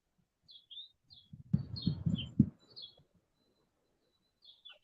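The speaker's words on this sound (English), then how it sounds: "I got chirping birds" Birds chirping in the morning, scattered high, faint tweets repeating across the clip, partly overlapped by a short burst of low, muffled noise in the middle.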